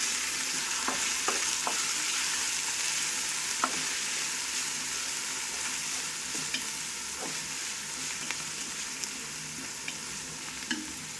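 Chopped mint and coriander fry in a pot for country chicken dum biryani, a continuous loud sizzle with scattered spoon scrapes and stirring clicks, close by and without talk.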